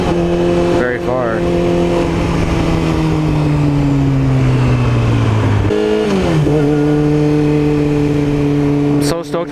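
A Yamaha R6 sport motorcycle fitted with an upgraded chain and sprockets holds a steady, loud engine note that slowly drops in pitch, then revs up again near the end, with a person talking over it.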